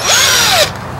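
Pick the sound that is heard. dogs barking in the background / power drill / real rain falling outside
power drill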